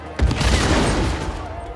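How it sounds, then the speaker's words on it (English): A short, loud burst of rapid gunfire and explosive booms from the video game Uncharted 4 rattles up close and then fades into a rumbling tail. "The explosions are so awesome in this game too."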